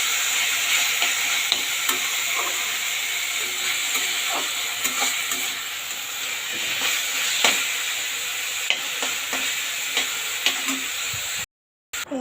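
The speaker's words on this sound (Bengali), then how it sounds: "এই যে দেখুন আমার শাক ভাজা হয়ে গেছে" Leafy greens fry in a hot pan, with a steady close sizzle and the scrape and clatter of stirring running throughout and no voices.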